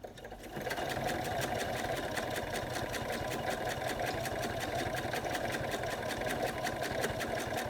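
A sewing machine stitching along a zipper with a zipper foot, running at a steady, fast mechanical rhythm after a short start, close and even for several seconds.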